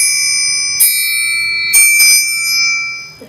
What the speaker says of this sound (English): they're basically very small metal cymbals